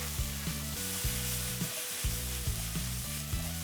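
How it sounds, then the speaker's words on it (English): Vegetables sautéing in olive oil in a pan give a steady close sizzle, broken by regular scraping stirs roughly every half second, with no one talking. "we're just gonna saute these until tender"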